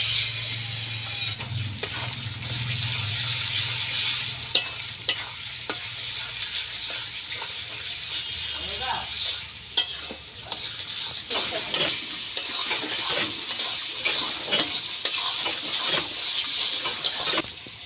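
Mutton sizzles and fries with Kashmiri red chilli powder, cumin, salt and turmeric in a pan, with steady hissing and repeated scraping stirs for the whole stretch, close and fairly loud.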